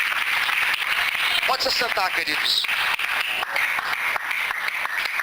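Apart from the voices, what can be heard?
church congregation applauding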